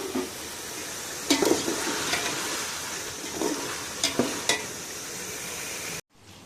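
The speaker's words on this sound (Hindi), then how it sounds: "मैं इसमें भगार जो तड़का लगाते हैं उसकी प्याज फ्राई कर रही हूँ।" Onions fry in oil for a tadka topping on biryani. A steady close sizzle runs throughout, broken by a few soft stirring clicks, and stops abruptly near the end.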